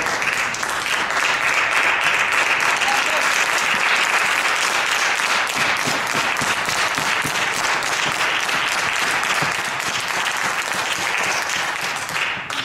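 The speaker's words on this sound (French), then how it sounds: "je vous remercie des applaudissements" Audience applause during a deliberation session, loud sustained clapping from a large crowd that holds steady throughout before easing slightly at the end.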